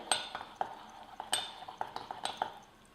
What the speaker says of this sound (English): I'm going to give that a mix to get it dissolving